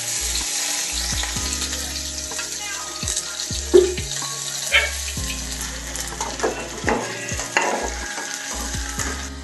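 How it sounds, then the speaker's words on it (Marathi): Chopped onion fries in oil in a pan, a steady sizzle broken by sharp scraping stirs and occasional clatter, close by. "आपण आता कांदा भाजून घेऊया. तेल टाकूया आता आपण."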